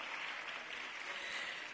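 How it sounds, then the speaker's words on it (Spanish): Audience at a choir and carol competition applauding, a faint, even wash of distant clapping that holds steady for under two seconds. "Pueden aplaudir cada vez que lo digo"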